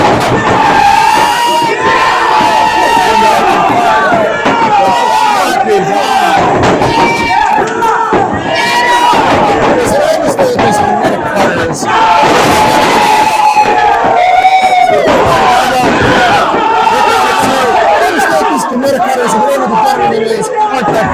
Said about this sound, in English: But the crowd's still firmly behind Stevie Legend here.